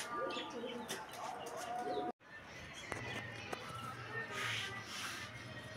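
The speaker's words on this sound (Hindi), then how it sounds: "ये कबूतर भी निकल आए हैं।" Pigeons kept as pets at home give soft, low, repeated cooing with a few light chirps and shuffling, fairly quiet and close, broken by a brief gap partway through.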